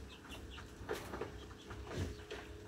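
Small young native chickens cluck and peep softly inside a coop, with several brief calls rising over a steady farmyard background.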